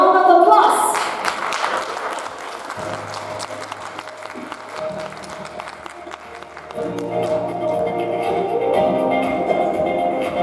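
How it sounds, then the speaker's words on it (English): A forum audience applauds to welcome the chairman of a wellness event, steady clapping swelling loudly in the room and continuing for several seconds with some crowd noise, then rising again near the end. "Ladies and gentlemen, a round of applause."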